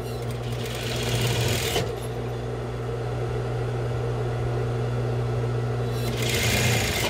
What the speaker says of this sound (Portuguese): Feita a bainha, fechamos nosso lateral.